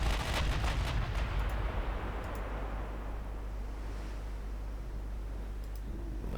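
Battleship main guns firing in a naval warfare game, a dense wall of low rumbling booms and rolling blasts that builds at the start and then sustains as a steady, heavy roar.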